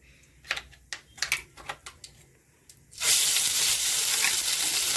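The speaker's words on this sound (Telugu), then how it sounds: "వీటిని అనేది మనం దోరగా అయితే వేపుకోవాలి" Masala paste and cumin for an egg gravy hit a hot pan after a few light clicks and taps, then a loud, steady sizzle of frying continues close by to the end.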